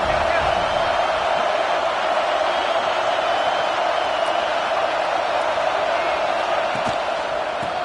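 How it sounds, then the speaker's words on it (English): A college football stadium crowd roaring steadily throughout as the home defense plays in the red zone, a dense, sustained wall of cheering and noise from a large crowd, with a commentator speaking over it. "the crowd coming to life here, trying to help this defense down in the red zone"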